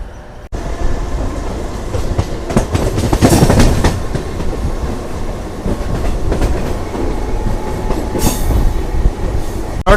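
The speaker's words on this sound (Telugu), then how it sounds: "ఇక్కడ చూసుకుంటే ట్రైన్ వస్తుంది" A DEMU passenger train on the Secunderabad to Siddipet line rolls in loudly and close by, wheels clattering rhythmically on the rails with bursts of metallic squeal and rumbling throughout.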